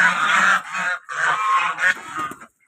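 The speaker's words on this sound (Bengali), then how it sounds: "এখানে সব হাঁস আছে" Domestic desi ducks kept with hens for eggs give loud, close, harsh honking quacks in two long overlapping bursts, with brief gaps between calls.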